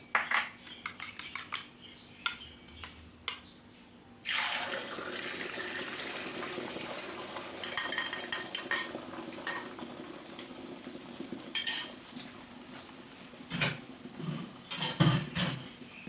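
A sustained hiss and sizzle of eggs frying in hot oil in a deep pan begins a few seconds in, with scattered clinks and scrapes of utensils against the pan.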